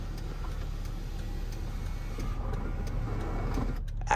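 Power sunroof motor on a 2012 Acura MDX Tech Package SH-AWD whirring steadily as the glass panel closes, a continuous mechanical hum over low cabin rumble that cuts off abruptly near the end.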